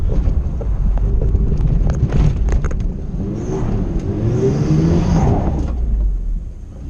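A 4WD vehicle in two-wheel drive grinds along off-road, its engine droning and swelling in a moderate rev under heavy wind buffeting on the microphone, with no voices heard.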